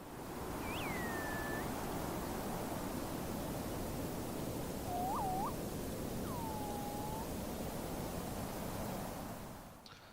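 Synthesized bird calls from a synth rack in Ableton Live for a jungle soundscape, a few short swooping chirps and a descending whistle heard faintly over a steady bed of rushing noise.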